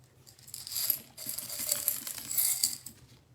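Small foil-backed glass pieces are set down onto a wooden surface, making light clicks and tiny clinks in irregular bursts, close and fairly quiet.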